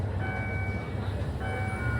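A Thai passenger train runs steadily on the Pha Sadet to Hin Lap line with a continuous low rumble, thin high tones ringing above it, heard from on board.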